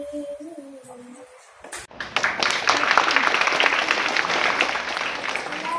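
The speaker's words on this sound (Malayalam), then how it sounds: "നിങ്ങൾ കൈയടിക്കുമ്പോൾ തന്നെ മനസ്സിലായി" After a school song, an audience breaks into applause, a sudden swell of steady clapping that stays loud and fairly close for several seconds following a brief quieter stretch with a voice.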